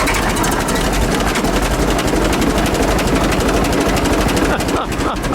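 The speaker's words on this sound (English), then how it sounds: "So now I'm going to try to hand crank a 4-cylinder," A 1907 Renault Type AI Vanderbilt racer's 4-cylinder, 521 cubic inch racing engine, hand cranked to life, runs loud and close with a rapid, rough, pulsing beat that stays steady throughout.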